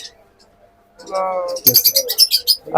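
Lovebirds in a bird shop give quick high chirps in a rapid burst, close by, after a short low murmur.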